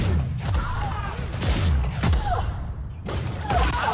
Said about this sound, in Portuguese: Ela simplesmente tira a trava da arma e descarrega.